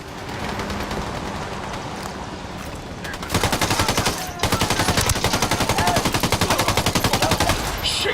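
Automatic gunfire rattles through a Ghost Recon Wildlands firefight as rebels defend a house. Rapid, evenly spaced bursts are loud and close, first at a steady rate, then faster and heavier after a short break.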